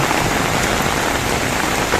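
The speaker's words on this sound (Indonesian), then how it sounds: "Anginnya juga cukup kencang, hujannya juga cukup kencang, mengisi kolam-kolam" Heavy rain pours down with strong wind onto open fish ponds, a dense, loud, unbroken hiss of drops striking water and surfaces.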